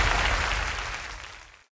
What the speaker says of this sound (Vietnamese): một tràng pháo tay nữa cho Gừng Không Cay